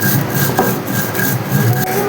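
Roasted fennel seeds being coarsely ground for a mango pickle, a steady dry scraping and rubbing crunch that runs on without pause, close and fairly loud.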